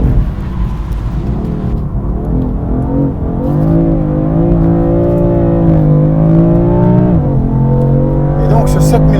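A BMW M4 engine revs up toward 7000 rpm, with a loud, close, climbing tone that holds high and then drops off, and a voice talks over it.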